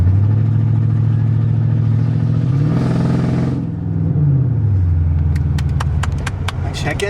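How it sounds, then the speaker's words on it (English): A car engine running with a misfire on cylinder 4: a loud, close, rough droning idle that briefly rises in pitch and falls back, with faint clicks toward the end. "Misfire."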